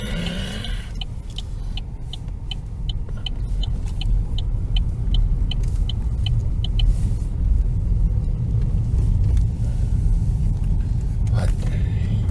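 Car traffic on a snowy road on Christmas Day produces a steady low rumble of engine and road noise, with a rapid ticking indicator clicking for several seconds near the start.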